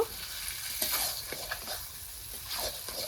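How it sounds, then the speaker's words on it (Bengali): Mutton tossed with fried spice masala in a pot for curry, a soft continuous sizzle with scraping and stirring strokes of a spoon, fairly quiet and close. "নেড়ে চেড়ে মশলার সাথে মিশিয়ে দিই আরও কিছু সময় কষিয়ে নেব"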